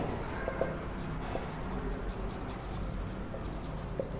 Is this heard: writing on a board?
yes